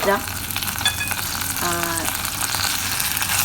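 Dry duck leg sizzles steadily in a hot pan with ginger and shallot, a close, continuous frying hiss with some stirring scrapes and no talk.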